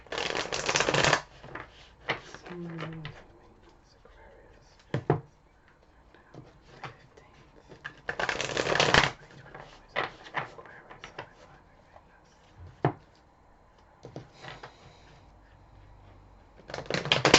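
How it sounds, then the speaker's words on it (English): Tarot cards from a Light Seers deck being shuffled and handled, with several loud riffling bursts and softer card slides and taps in between, close by and with no talking. "Let me just pull a few more cards from the Light Seers tarot deck here by Chris Ann."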